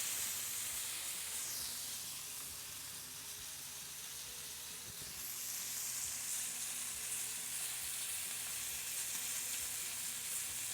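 Picanha steaks sizzling on a Grilla Grills Primate griddle, a steady close hiss and crackle of frying fat that carries on without a break, no talk.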